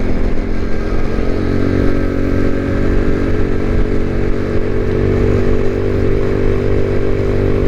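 Motorcycle engine droning steadily while riding along a road, a constant loud hum with no speech over it.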